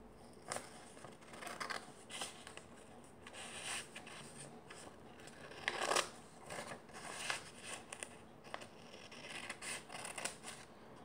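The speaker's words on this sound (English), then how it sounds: "And cut right where the crease is." Scissors snipping along a crease in origami paper while folding an eight-pointed transforming ninja star, with soft, quiet repeated cuts and paper rustles close by over faint outdoor background noise.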